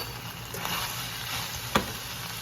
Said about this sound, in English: It is sizzling and I don't want it to burn.